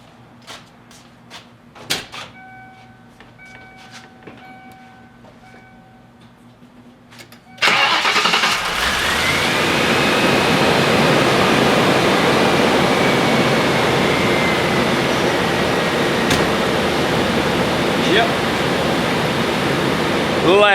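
A 1994 Lincoln Town Car with a newly replaced mass airflow sensor, preceded by faint clicks and chimes, then the engine cranks and catches and settles into a loud, steady, smooth idle that continues for more than ten seconds.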